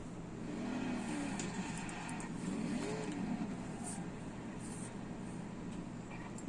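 A 1,500hp Tokyo Drift Mustang drifting in Forza, its engine a steady, fairly quiet drone with mild rises and falls in revs and no one talking.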